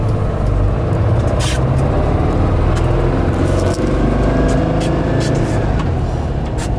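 A 1959 Porsche Convertible D out on the road, with a loud continuous engine and road rumble plus wind noise, and a few short sharp clicks over the steady drone.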